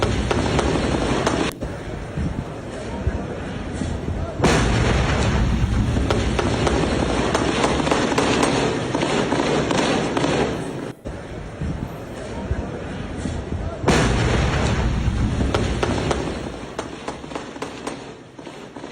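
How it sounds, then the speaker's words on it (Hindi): Gunfire exchanged from both sides during a terrorist attack in Somalia: dense, continuous crackling shots at a distance, heavy and noisy throughout with no voices. "वहां ये जो गोलियां चल रही हैं दोनों ही तरफ से"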